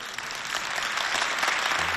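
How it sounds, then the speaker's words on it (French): Steady, dense applause from a large audience at a festival show, filling the space evenly for the whole stretch with no pauses, while a faint voice rises near the end. "Applaudissez encore."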